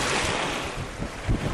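Steady wind blowing across the microphone in Tierra del Fuego National Park, Patagonia, mixed with a broad rushing of waves and sea surf, with no talking.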